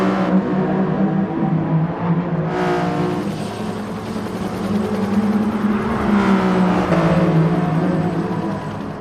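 Race cars lapping the Laguna Seca circuit in Gran Turismo Sport, a continuous loud engine drone rising and falling as they accelerate and shift, with overlapping motors and tire whir and no voices.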